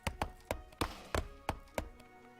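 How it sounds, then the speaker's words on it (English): Trees are chopped in the Kingdoms and Castles city-building game, giving a quiet, regular run of sharp wooden thunks, about three per second, faint and without talk. "So let's start chopping those trees down."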